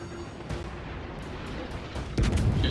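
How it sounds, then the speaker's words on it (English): Secondary guns on a warship fire in the video game World of Warships, with repeated booming shots spaced across a few seconds. The blasts sound over a steady, rumbling background, and a heavier volley lands near the end. "Secondaries are opening up."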